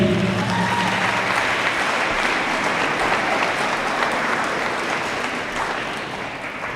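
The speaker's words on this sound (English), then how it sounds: "can you give these teachers and administrators a round of applause?" Sustained applause from a large audience, dense and loud at first, then slowly tapering off toward the end.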